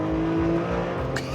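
A BMW E46 M3 straight-six engine with 343 horsepower and a metallic twang holds a steady, loud rev for just over a second, with a faint higher swell near the end.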